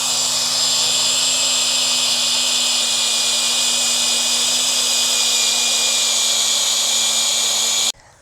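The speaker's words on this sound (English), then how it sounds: "What happens if my drill wears out?" A steady high-pitched whine of a power drill running continuously at constant speed, close by, stopping abruptly at the end.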